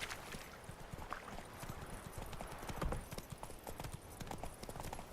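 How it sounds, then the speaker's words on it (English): A horse galloping in The Witcher 3: Wild Hunt, its hooves drumming in a fast, steady clip-clop that carries on throughout, close and prominent over soft outdoor game ambience. "Run, Roach."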